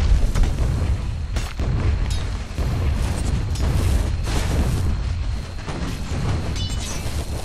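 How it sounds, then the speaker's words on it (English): Dota 2 battle at a tower, with loud, continuous booming impacts, crashes and bursts of spell and attack effects piling up over several seconds. "Radiant's bottom tower has fallen"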